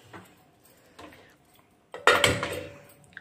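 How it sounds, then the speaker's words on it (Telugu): A gas stove being lit in a home kitchen: a few faint clicks, then a sudden close whoosh and crackle as the burner catches, fading off with a light clatter, no talking. "ఇప్పుడు ముందుగా స్టవ్ వెలిగించుకొని"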